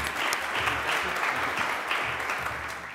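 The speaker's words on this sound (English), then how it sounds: "Please give him a warm round of applause." Conference audience applauding a speaker at a Bitcoin developers event, a steady wash of clapping at moderate level throughout with no talk over it.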